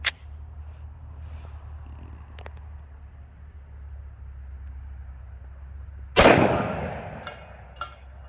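A single loud shot from a Smith & Wesson M&P 10mm pistol with a 4-inch barrel, firing Hornady Custom 155 grain XTP ammunition; sharp, close blast with a short echoing tail after several seconds of quiet outdoor ambience.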